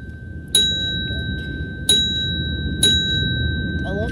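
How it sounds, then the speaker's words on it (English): An Otis elevator chime rings three times, clear, bright single dings spaced unevenly, each with a lingering tone, over a low steady hum of the lift cab. "I love the chime."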